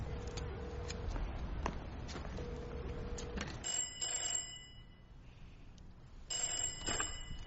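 A telephone rings with repeated electronic bell bursts in a tense exchange, loud and clear with short pauses between rings and a low background hum beneath.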